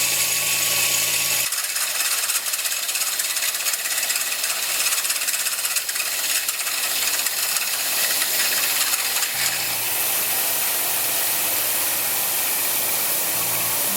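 Drill boring a hole through a part for a BSA Fury motorcycle restoration in a workshop, a loud steady mechanical whine with broadband grinding noise running continuously for the whole stretch, with no talking.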